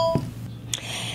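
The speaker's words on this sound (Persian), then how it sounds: "عزیزان صدای زنگ تلفن ها و کامنت هایی که برای این جواهر داشتید" Short electronic telephone tones, a couple of brief beeps near and fairly clear over a low steady hum, from a call-in segment of a televised jewelry sales show.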